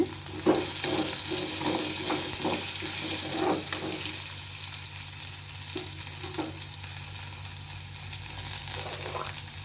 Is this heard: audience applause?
no